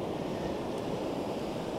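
Ocean waves wash over the shore as a steady, close, broadband roar of surf with no pauses.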